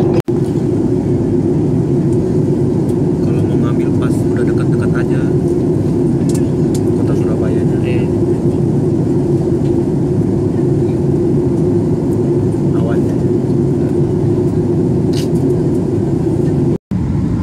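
Lion Air airliner taxiing after landing, heard from inside the cabin as a steady, loud engine and airframe rumble that drones on evenly throughout.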